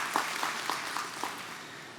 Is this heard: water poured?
no